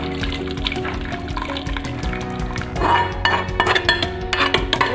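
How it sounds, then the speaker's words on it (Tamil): Mutton kulambu curry is poured from a pan into a pressure cooker, with a thick liquid slosh and metal scraping and clinking against the pan, all close and continuous with no talking. "அப்படியே வாணல்ல இருந்து குக்கர்ல அப்படியே ஊத்திறேன்"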